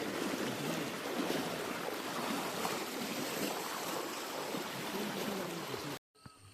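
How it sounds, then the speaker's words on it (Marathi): Fast floodwater surges and churns in a steady, loud broadband rush at night while the level keeps rising, continuous and close, then cuts off abruptly near the end. "कसलं पाणी चढतंय बघा."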